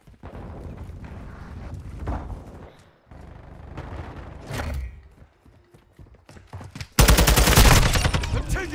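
Enemy gunfire in the video game Call of Duty Modern Warfare: bursts of rifle shots and rattling fire through the first seconds, ending in a loud, sustained volley of rapid shots, with brief quieter gaps between exchanges.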